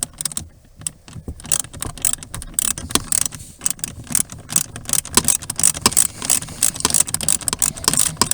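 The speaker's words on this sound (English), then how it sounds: "now we can go ahead and remove these 2 bolts" A socket wrench works bolts loose on a 2003 Chevrolet Malibu during a blower motor resistor replacement, making rapid, dense ratcheting clicks and metallic taps up close, continuous and busy.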